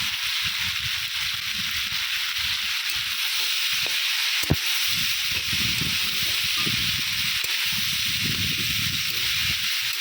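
Chopped banana flower, brinjal and potato fry in a pan over tempered spices, a steady close sizzle layered with soft stirring scrapes and shuffling, one sharp clack of a utensil partway through.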